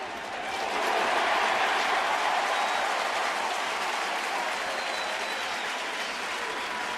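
A baseball stadium crowd on its feet applauds in a dense, sustained wash of clapping that swells in and holds steady at a moderate distance.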